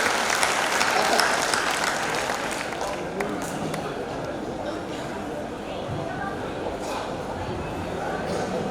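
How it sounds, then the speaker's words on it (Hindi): Dense, sustained applause from a large crowd at a Hindi comedy poetry event for poet Kanu Pandit, loud and steady throughout with crowd murmur underneath. "दोनों हाथ जोरदार तालियां बजाइए कानू पंडित"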